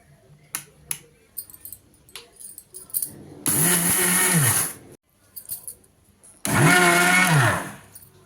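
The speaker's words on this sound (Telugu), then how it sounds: "ఈ పంచదార ఈ యాలకులు ఇప్పుడేమో మిక్సీ పట్టుకోవాలి మెత్తగా" Two loud bursts of a mixer grinder whirring at high speed while grinding sugar and cardamom into powder, each a few seconds long, separated by a pause with light clinking and handling sounds.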